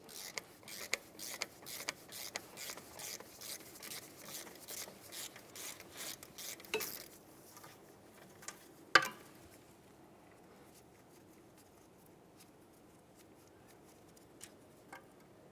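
A wheel speed sensor on a 2012-2018 Nissan Altima is wiggled back and forth to pull it from the front steering knuckle, giving a close, rhythmic rubbing and rasping for about seven seconds before a few faint scrapes and one sharp knock.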